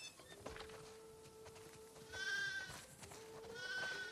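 Sheep bleating in the video game The Last of Us Part II, two or three wavering nasal bleats close by over a quiet farm backdrop.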